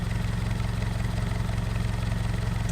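A car fitted with a CSG Touring86 aftermarket exhaust idles steadily, a low rhythmic burble pulsing evenly and close, alone without talking.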